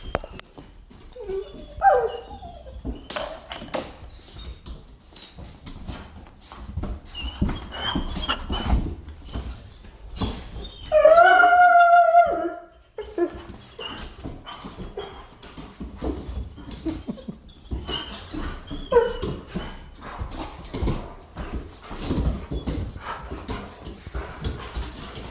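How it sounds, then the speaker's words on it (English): A dog interested in a flirt pole whimpers, yips and barks intermittently, close by, over ongoing outdoor movement and rustling, with one louder whining yelp partway through. "There's dog."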